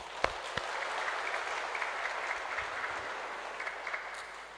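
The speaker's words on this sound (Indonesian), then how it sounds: "Mari kita berikan aplaus," A congregation at a Christmas Day Mass applauds, sustained crowd clapping that fills the whole span at moderate level, with a couple of sharper claps near the start.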